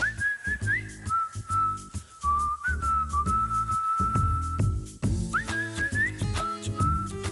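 Melodic whistling carries a bright, sliding tune over a steady backing music track, with sustained notes and quick rising flourishes throughout, no voices.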